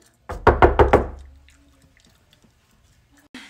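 Four quick, loud knocks on a door in a close, rapid sequence, followed by near silence with small faint clicks and a brief rustle at the end.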